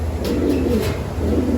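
A racing pigeon coos softly at close range, giving a few low throaty calls over a steady background hum.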